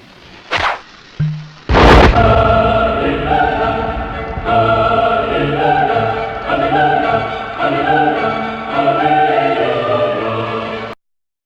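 Explosion sound effect marking a review rating: a few sharp pops, then a loud booming blast that rolls into a long, rumbling, musical tail before cutting off abruptly.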